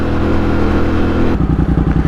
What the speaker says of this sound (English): Exhaust sounds insane